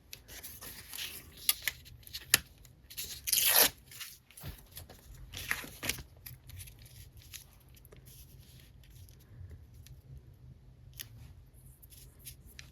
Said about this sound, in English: I think I just want to tear it a little bit.